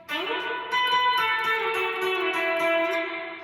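An electric guitar plays a sustained riff with pinky slides, ringing clearly and close with no talking.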